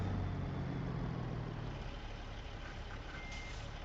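Reversing beeps from a Peterbilt truck backing up in a trucking simulator game, a steady electronic warning tone held over a continuous low diesel engine rumble, loud and close throughout.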